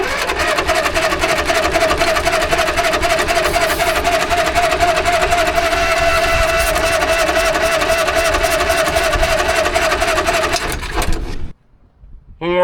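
A CAT D8 dozer engine cranking over on a 24-volt supply, a loud, fast, steady mechanical churning that runs for about eleven seconds, then cuts off abruptly.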